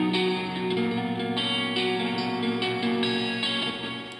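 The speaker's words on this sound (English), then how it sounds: "I wanted to play around with a bit crusher," Guitar run through a bit crusher for a lo-fi texture, a steady gritty stream of held notes with a harsh, buzzy sheen and a few soft changes, moderately loud and without voices.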